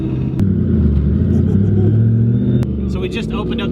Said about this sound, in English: So we just opened up the cutouts.